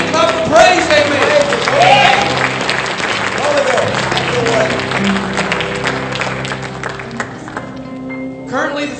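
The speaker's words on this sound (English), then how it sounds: "Let's give Him a hand clap of praise" Church congregation clapping hands in praise during Sunday morning worship, sustained loud clapping across the sanctuary with voices and sustained tones underneath, tapering off near the end.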